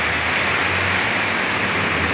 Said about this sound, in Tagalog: Medyo lumakas na nga ang ulan eh.